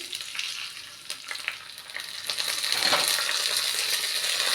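Tempering spices sizzle and crackle in hot oil for curd rice, with the frying growing louder and more steady as stirring scrapes along the pan.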